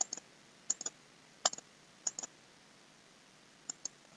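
Sparse mouse clicks while working in Photoshop, single and double clicks scattered at irregular intervals, crisp and close over a quiet room hum with no talking.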